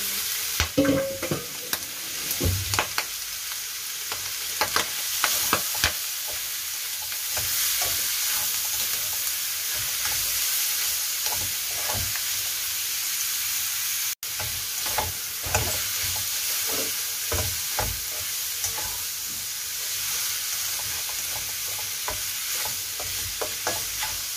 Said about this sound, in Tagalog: ilagay na natin yung bitoka kanina. At saka yung karne, isabay na natin para minsan.